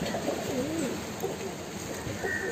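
Pigeons in a cage holding about fifty birds coo softly with rolling, warbling calls over a steady background hum, fairly close and continuous throughout.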